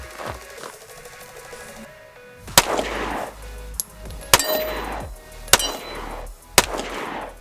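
Kel-Tec P15 pistol fired with a 15-round magazine: four sharp, loud shots in an uneven sequence, each followed by a brief echoing decay, after a quieter stretch of background noise.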